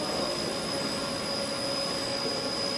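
Several elevator motors run in a machine room, making a constant loud mechanical drone with steady whining tones and no breaks.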